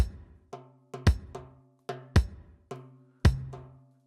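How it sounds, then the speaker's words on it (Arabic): A daf frame drum plays a layer of an oriental rhythm with the snare muted, its deep booming strikes and lighter ringing hits falling in a steady syncopated pattern, each hit decaying quickly, close and clear. "الاليمنت اللي بعد كده عندي آلة الدف"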